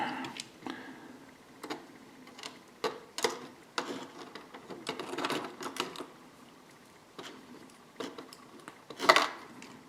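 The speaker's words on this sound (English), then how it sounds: "So I'm going to start by putting in the plastic screws first." Small plastic screws click and tap against a hard part while being fitted and lined up, producing quiet, irregular ticks and clatters with pauses between them.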